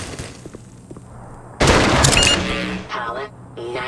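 Heavy turret gunfire in the video game Black Mesa, a Half-Life remake, breaks out as a loud, dense burst midway, with quieter game sounds and a voice coming in afterward.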